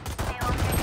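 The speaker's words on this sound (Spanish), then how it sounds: "Solo guiándome por los disparos" Gunfire in the shooter Valorant crackles as dense, rapid overlapping shots throughout, loud and continuous, with a voice faintly mixed in.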